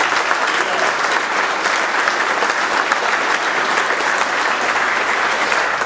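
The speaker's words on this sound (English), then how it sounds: "Give yourself a round of applause." Steady, loud applause from a dinner audience at an expo event, continuous dense clapping with no pauses across a few seconds.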